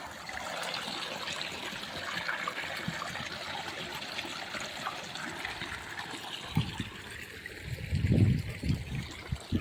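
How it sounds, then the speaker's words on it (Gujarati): A motor pump draws water from a well, and a steady rushing gush of water runs throughout, with a deeper surge toward the end. "આ કૂવો છે આપણે આલો જો મોટર થઈ ગઈ ચાલ સરસ મજાનું પાણી આવવાનું છે"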